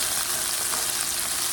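Beef sizzles and fries in a pan, a steady, close hiss of hot oil filling the whole moment with no voices over it.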